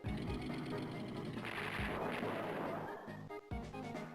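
Artillery unit firing in the Game Boy Advance strategy game Advance Wars 2: Black Hole Rising, a burst of booming blasts and crashing impacts followed by a few sharp thuds, moderately loud with faint game music.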